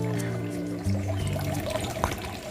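A mountain stream flows and trickles at moderate volume beside a steady low tonal hum, with a brief splash near the end and no clear speech.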